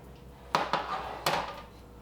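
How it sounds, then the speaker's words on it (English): Oven-fresh tater tots tumble into a bowl, giving three quick clattering knocks against the dish over a quiet kitchen background. "Here's our tater tots, fresh out of the oven. I'm just gonna put them in this bowl."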